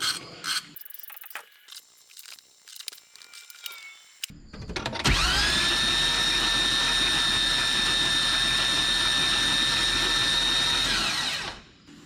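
An LS V8 swapped into a 1985 Chevrolet crew cab dually spins over on the starter with its spark plugs removed. A few scattered clanks come first, then a loud, steady whirring whine holds for about six seconds before cutting off.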